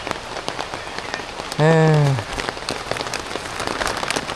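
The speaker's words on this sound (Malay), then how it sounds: "Hujan dah petang ni." Steady patter of afternoon rain on a campsite fills the clip, with a short tonal vocal sound briefly cutting through in the middle.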